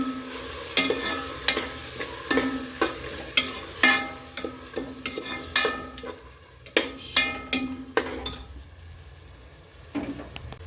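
Garlic paste fries in a pan for biryani, with a steady soft sizzle under repeated sharp metallic scrapes and clinks of a spoon stirring against the pan, close and fairly quiet.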